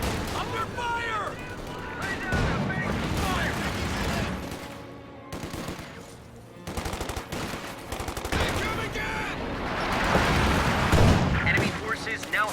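Heavy gunfire from a WW2 strategy game battle, with dense machine-gun bursts, rifle shots and distant booms rolling on and off under urgent radio-style voices calling out orders.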